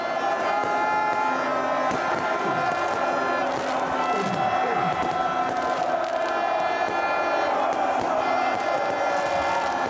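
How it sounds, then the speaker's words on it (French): A large crowd at a political rally meeting cheers and shouts continuously, a dense roaring wall of voices with whoops and cries rising over it, loud and sustained. "Une vague de cris monte et le sol tremble sous les pas."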